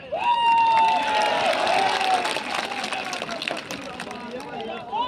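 A large crowd at an open-air political rally in 45-degree heat, a loud sustained roar of cheering and shouting with whistles over it, voices and amplified sound mixed in.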